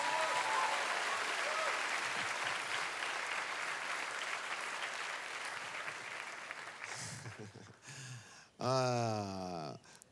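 Church congregation applauding the Lord: sustained, even clapping from a large crowd for several seconds, then fading as a voice speaks and calls out over the last of it.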